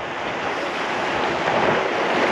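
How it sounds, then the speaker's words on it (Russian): Stormy Black Sea waves break and surge over a gravel beach near Koktebel, Crimea, a loud, continuous roaring wash with gusting wind buffeting the microphone and no voices. "Море"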